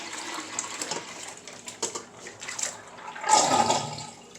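Soaking water splashes and pours out as salt cod (bacalao) is strained, a steady wet rush swelling louder near the end, with no talking.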